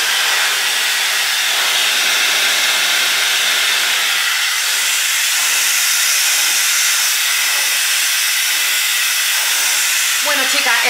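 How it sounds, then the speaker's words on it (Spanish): An Anlan brushless-motor hair dryer blows a loud, steady hiss that runs unbroken the whole time with no voices. "el secador de pelo de Anlan es una maravilla"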